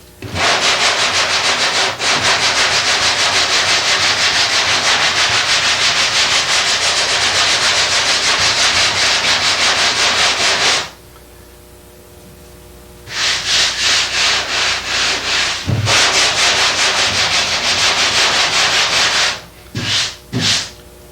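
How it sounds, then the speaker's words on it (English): Hand sanding of body filler on a car body during a panel repair: loud, close, continuous abrasive rubbing strokes that stop for about two seconds, resume, and then break into shorter bursts near the end. "You notice the more you sand, the closer you'll be getting to the edge where the grinder marks are."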